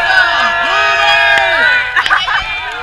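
A crowd cheers and whoops at a knights' tournament match at the Schluderns knight games, with loud excited shouts and bursts of voices over a sustained tonal background.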